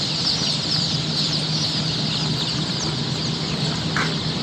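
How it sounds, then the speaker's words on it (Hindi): Golden and silver chicks chirping and peeping in a steady, dense chorus close by, with a constant low hum of farm machinery or a fan running underneath the whole time. "हमारे पास ये सिल्वर गोल्डन चूज़ा है"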